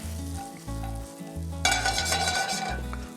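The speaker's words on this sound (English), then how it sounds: "So we're just gonna saute them with a little bit of salt." Enoki mushrooms sauté in sesame oil in a pan with a steady close sizzle, then a louder burst of hissing partway through as they are stirred, with no one speaking.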